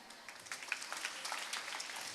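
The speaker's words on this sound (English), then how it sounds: "We give them the clap." An audience at a school annual day celebration claps, a soft, dense patter of many hands that stays even and fairly distant for a couple of seconds.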